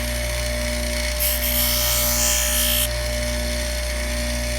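A grinder, angle or bench-top type, briefly bites into the edge of a leather belt, giving a short bright rasping burst of about two seconds over a steady low motor hum, with no voices.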